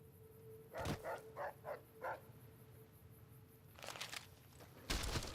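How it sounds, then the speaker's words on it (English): Coyote barking while attacking in Fallout New Vegas: a quick run of four or five sharp barks in a row, then quieter growly bursts near the end, no talking. "You just sat there and let that coyote attack you."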